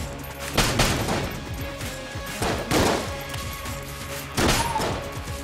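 Gunfire from the video game Enter the Gungeon: a few punchy shot bursts with crashing impacts at roughly two-second intervals, fairly loud over a busy game soundscape with no talking.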